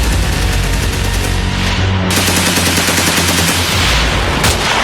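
Terrorists open fire during the 2008 attack in Mumbai, producing dense, rapid automatic gunfire that crackles continuously at high volume, with heavy booming layered underneath and no voices.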